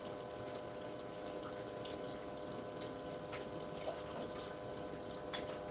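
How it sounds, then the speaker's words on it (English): Water trickling and hissing steadily from a leaking hose, a faint continuous wash of flow with a few small drips, no voices. "don't tell me there's other hose that leaks as well."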